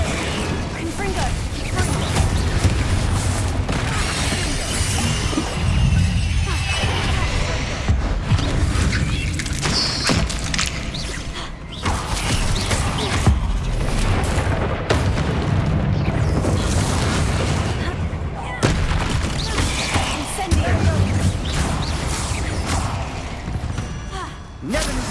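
Confringo fire spells burst repeatedly in Hogwarts Legacy, each loud explosive boom layered over clattering game effects and ongoing combat noise, with a character's voice shouting at intervals throughout.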